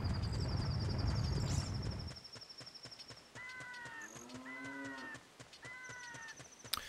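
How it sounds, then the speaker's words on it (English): A cow in a cave in Ocarina of Time lowing in a few drawn-out, tonal moos, soft and distant-sounding, following a burst of rushing noise and a steady ticking rhythm. "you are hearing mooing"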